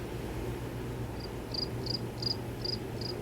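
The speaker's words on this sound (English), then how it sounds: "insert crickets in this section of the video when I do the edit" Crickets chirp in a series of six short, evenly spaced bursts over a steady low background hum, starting faint and holding at a moderate level, with no voices present.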